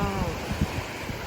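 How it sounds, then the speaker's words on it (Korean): Steady broadband wash of ocean surf rolling in on Oahu, Hawaii, at sunset, with soft low swells rising and falling and faint voices murmuring beneath. "이 바닷소리가 너무"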